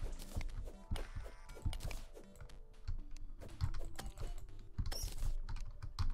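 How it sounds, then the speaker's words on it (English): Computer keyboard keys clatter in rapid, irregular bursts of clicks and clacks during Terraria gameplay, close and fairly loud with no talking. "I still cannot fix that clitter clacking clattering from my keyboard"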